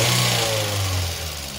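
A car engine runs loud and close, a low steady rumble that swells briefly as it revs, then eases slightly toward the end.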